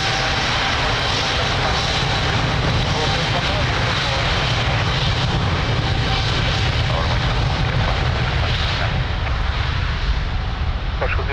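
An airliner taking off at Lisbon Airport from runway 02, a steady loud engine roar holding throughout with airport radio talk over it.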